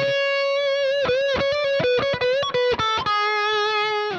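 An electric guitar with effects and distortion plays a melodic solo lick: a sustained note, then a run of quick, bending, legato notes that settles onto another held tone, loud and alone.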